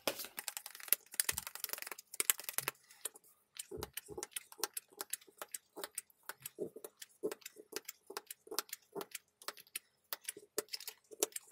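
Tarot cards being shuffled by hand, a quick run of crisp, dry taps and riffling clicks in an irregular rhythm, close and fairly quiet, with no talking.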